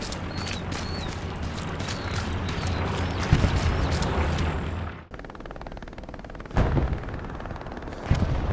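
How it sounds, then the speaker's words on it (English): Machine gun fire in the Hell Let Loose video game: a dense, continuous crackle of gunfire with short bursts and heavier thumps, fairly loud, which drops to a quieter rattle partway through before more bursts. "I hear a fucking MG."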